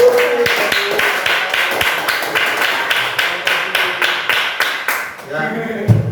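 A classroom finger-clapping chant, tepuk jari: a rapid run of crisp, rhythmic claps and taps from a group of students, steady and fairly loud, fading out near the end into a brief sung or spoken voice.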